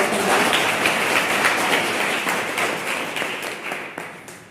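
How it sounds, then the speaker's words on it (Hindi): An indoor meeting audience breaks into loud, dense applause, a crackling wash of many hands clapping together that gradually tapers off toward the end. "एक बार जोरदार ताली हो जाएगी"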